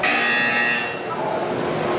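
An electronic buzzer from the Portal 2 video game sounds as one steady, loud tone lasting about a second, then a flatter hum fills the rest of the clip.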